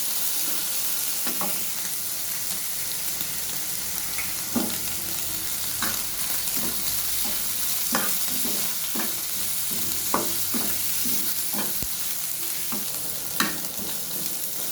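Steady, close sizzling of dried fish frying in a pan throughout, with irregular clicks and scrapes of stirring scattered across.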